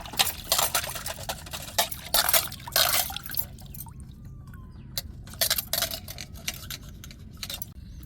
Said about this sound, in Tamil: நம்ம 2 தண்ணி வச்சு நல்லா கழுவி தேய்ச்சி எடுத்துக்கிறேன்னு பாத்திரத்தை